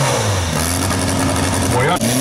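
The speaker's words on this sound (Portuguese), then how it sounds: "É agora que a turbina vai pegar." A turbocharged race car engine, a Voyage competing in a regional racing event, revs hard and loud as the turbo comes on, its pitch climbing steadily with a brief dip near the end.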